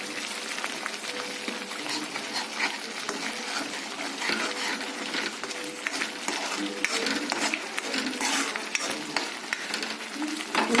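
Garam masala and coriander powder are stirred into a sizzling okra masala curry, with a dense, steady frying hiss and the constant scrape of a spoon moving through the pan, close and unbroken.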